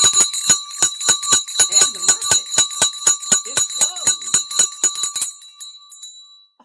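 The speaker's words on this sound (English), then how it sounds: "I never tire of the bell." A hand bell rung to mark a stock market close, with about two dozen rapid, bright strikes in a steady rhythm, loud and close, then a ringing tail that fades into silence.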